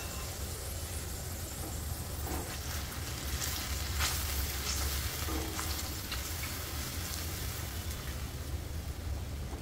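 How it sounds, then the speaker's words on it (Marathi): Water is poured into a pan of corn and peas, raising a steady, loud sizzle that holds evenly throughout with a few sharper crackles, with no voices. "आपले कॉर्न आणि मटर शिजण्यासाठी मी थोडंसं पाणी टाकते"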